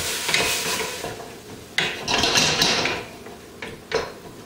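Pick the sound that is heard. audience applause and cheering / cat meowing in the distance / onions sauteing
onions sauteing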